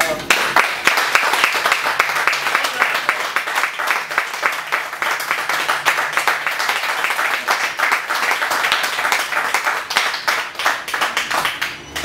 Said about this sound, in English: that's a lot of clapping for 3 people